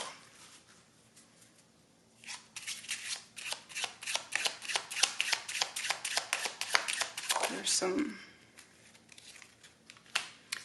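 A deck of tarot and oracle cards is shuffled by hand, with rapid riffling flutters and snaps that rise into a dense run and pause briefly before resuming. Someone talks intermittently over it.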